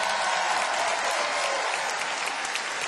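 Audience applause for a singer at a Dutch tribute show, a dense, steady wash of clapping from a large crowd that holds loud and even throughout.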